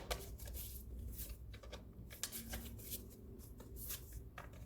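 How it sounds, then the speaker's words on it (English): Tarot cards being shuffled by hand, a dense, continuous riffle of papery flicks and soft slaps, close and steady throughout with no talking. "Let me just throw these cards in here and we'll give them a good shuffle."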